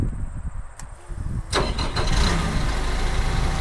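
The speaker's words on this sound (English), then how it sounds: "I'm going to start the engine." The engine of a Terex Achiever TC-55 58 ft tracked aerial lift cranks with a sharp click and catches, then settles into a steady, loud idle rumble nearby.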